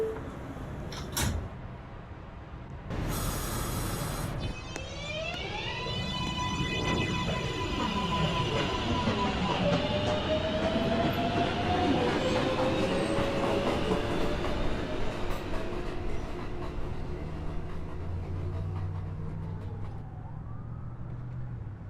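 A Manhattan-bound 2 subway train runs through a station during the evening rush, its motors whining in rising and falling tones over a steady rumble, with a sharp screech early on and no voices.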